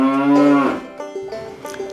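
Cattle on a grassland farm, one cow giving a loud, close, drawn-out moo that trails off, followed by quieter lowing and faint background noise.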